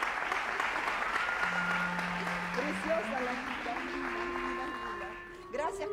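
Studio audience on a television variety show applauding steadily, a sustained wash of clapping with a brief spoken remark over it and a few sung or tonal voices near the end.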